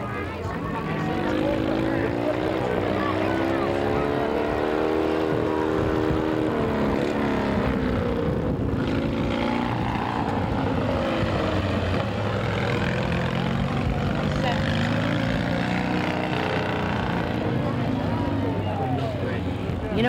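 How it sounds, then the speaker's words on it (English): Custom lawn mower tractor doing wheelies in a parade, its engine a steady loud drone with shifting pitch throughout, mixed with crowd noise and people talking nearby. "Here comes Bud's mower. A wheelie tractor"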